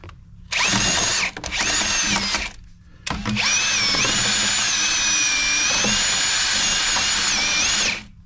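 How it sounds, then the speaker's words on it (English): A wire brush spun by a power drill scrubs rust on a 2014 Promaster van during a seat swivel install: a loud, steady whine with harmonic pitch, cut into two short bursts before one long continuous run of about five seconds. "I've got my rust spray and I do have a wire brush on the drill."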